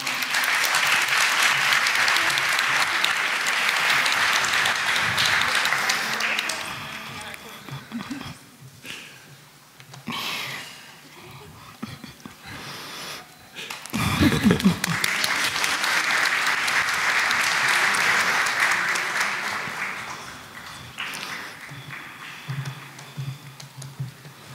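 An audience at a real estate awards ceremony claps in a dense, sustained burst, dipping briefly and then swelling again, with some voices mixed in among the clapping.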